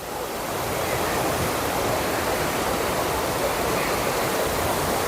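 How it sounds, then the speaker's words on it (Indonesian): Steady rushing water roars without a break beneath a sluice gate under a bridge, a dense broad wash of flow close by, with no voices. "Air mengalir"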